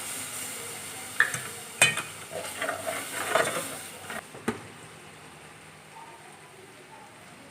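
Butter, flour and milk for a white sauce being stirred in a pan, with scattered soft scrapes, clinks and faint bubbling, fairly quiet and irregular.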